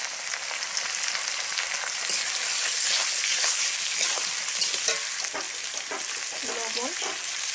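Garlic paste, chopped onion and tomato fry in a pan with a dense, continuous sizzle close by, while a utensil stirs and scrapes through it in scattered strokes toward the end.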